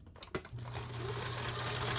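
A sewing machine stitching through a paper pocket for a file folder journal, starting with a few clicks and then settling into a steady, close, continuous whirring hum with rapid needle chatter, no talking.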